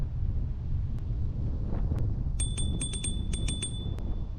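A bright electric scooter bell rings in a quick series of dings over steady wind noise and low rumble outdoors in Philadelphia, close to the microphone.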